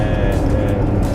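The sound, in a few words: Fiat 125p or Mercedes W123 engine at about 3000 RPM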